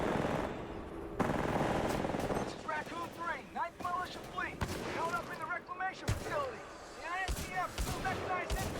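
Bursts of rapid gunfire and explosions from the video game Titanfall 2 crackle beneath someone talking over them, with sharp impacts scattered throughout.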